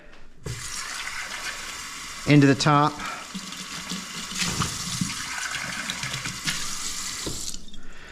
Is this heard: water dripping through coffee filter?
yes